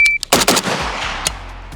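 A cheap AK rifle fires a fast string of sharp gunshots, five or six close, loud cracks in quick succession, then a lone later shot with echoing tails.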